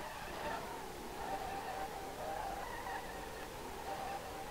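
Tyres squeal steadily as a Nissan Fairlady Z S30 drifts in the SLRR driving game, a continuous skidding whine over engine drone with no break across the stretch.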